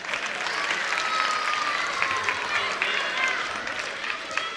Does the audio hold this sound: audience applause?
yes